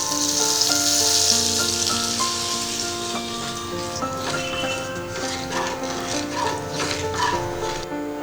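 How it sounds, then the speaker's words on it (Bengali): Mustard oil with a little salt heats in a wok, making a soft, continuous sizzle and hiss beneath steady background music. "আমি কড়াইয়ে দিয়ে দিচ্ছি সর্ষের তেল"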